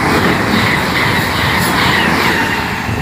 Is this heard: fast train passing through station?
yes